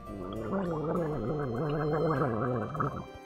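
A player in a Minecraft Mario Party session gargles and slurps close into a microphone, producing a wet, bubbling warble that wavers in pitch for about three seconds with no talking.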